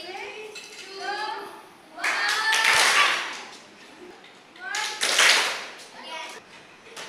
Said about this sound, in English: I want one clap together.